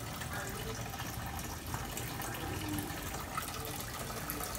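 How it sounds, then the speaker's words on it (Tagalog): Coolant drains from a car radiator in a steady, continuous gush of water that runs unbroken throughout. "habang dine-drain po natin yung radiator"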